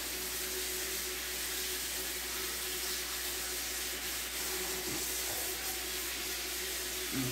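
Running tap water washes freshly picked grapes, a steady close hiss of flowing water with faint occasional clinks beneath.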